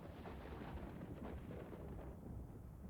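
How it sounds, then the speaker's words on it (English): Deep, continuous rumble of a video game thunderstorm, a broad low roar of rolling thunder and rain-like noise that holds steady at moderate level with no voices over it. "Is it... Is that thunderstorm?"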